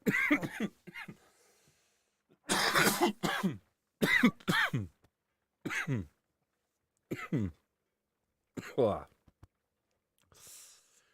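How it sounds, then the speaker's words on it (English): A person coughs and clears their throat repeatedly after bong hits of cannabis, with harsh, raspy bursts in an uneven series, close to the microphone, and a few breaths between them. "Definitely coughed a few times."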